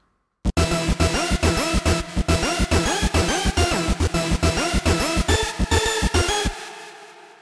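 Bass and another sound play together in a music mix: a dense, loud, rhythmic pattern of repeated punchy hits with swooping tones that runs steadily for six seconds, then cuts off to a fading tail.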